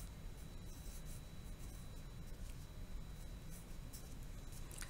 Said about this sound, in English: Let me write it.